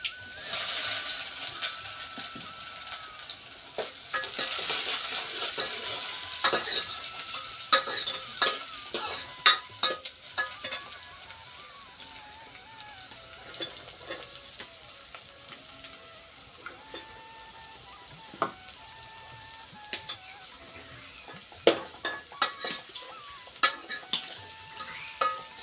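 Onion and garlic stir-fried in a pan for a peanut bhajiya curry, a continuous sizzle with repeated sharp scrapes and knocks of the spatula against the pan at irregular intervals, close and moderately loud, with no talking.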